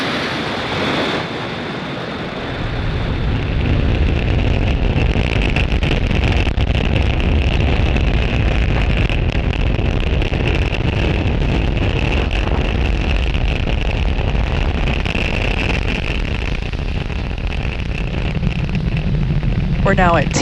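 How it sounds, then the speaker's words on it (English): SpaceX Falcon 9 rocket lifting off from Space Launch Complex 40 at Cape Canaveral, Florida, carrying Starlink satellites, a broad sustained roar that builds after a quiet start and holds steady, with a commentator talking over it. "Falcon 9 has successfully lifted off from Space Launch Complex 40 from Cape Canaveral, Florida"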